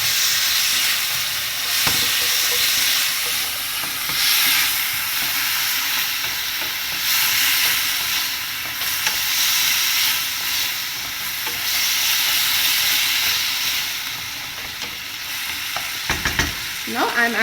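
Baby corn Manchurian sauce with sugar being stirred in a hot pan, a steady bubbling sizzle with scraping spoon strokes throughout, ending in a few sharp clacks.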